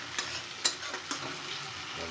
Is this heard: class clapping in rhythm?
no